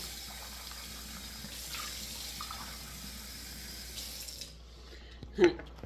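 A faucet runs hot water into a sink in a steady, even gush for several seconds before shutting off, followed by a brief clunk near the end.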